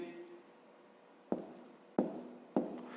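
Pen writing numbers on paper while working a fifth-grade maths subtraction, three quick scratchy strokes close to the microphone after a quiet pause, with no talking over them.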